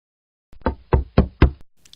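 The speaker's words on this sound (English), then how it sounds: "someone's knocking at the door" Four firm knocks on a wooden door in quick, even succession, close and loud.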